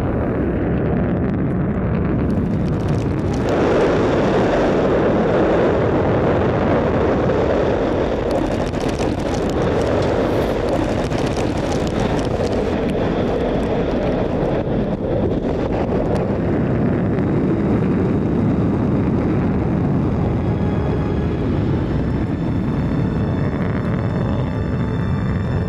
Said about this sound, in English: This is the first time this rocket has ever launched.